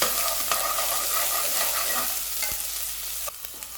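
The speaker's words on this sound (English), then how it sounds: "Once the oil's heated up, add the garlic ginger and let that get golden." Garlic and ginger fry in hot oil, giving a steady, close sizzle with a few soft stirring clicks and a brief dip near the end, with no voices.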